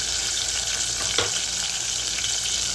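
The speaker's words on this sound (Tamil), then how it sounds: "வெங்காயத்தை போட்டாச்சும்மா" Small whole onions fry for capsicum kurma, giving a loud, dense, unbroken sizzle close to the pan, with one brief scrape of a spoon partway through.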